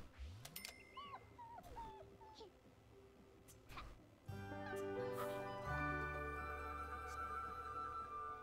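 Virtual puppy in a Sims life-simulation game, giving short high whimpers and yips early on, then a steadier tonal game hum takes over in the second half.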